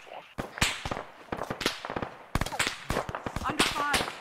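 Sharp airsoft gun shots crack out during a milsim game outdoors, a quick irregular string of nearby pops and short bursts, with voices speaking in between.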